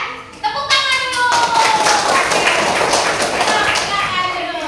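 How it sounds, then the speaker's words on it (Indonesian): A classroom of children clapping hands together on cue, a burst of loud, steady group clapping that carries on throughout with some background chatter mixed in. "Tepuk tangan dulu."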